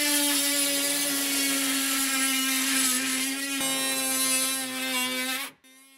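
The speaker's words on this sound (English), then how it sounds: "So Kenneth is using what's called an oscillating saw with a metal blade on it to cut through these metal bars." An oscillating saw with a metal blade cuts through metal bars on an IBC tote, giving a steady, loud, high buzzing whine that keeps going for over five seconds and then cuts off abruptly.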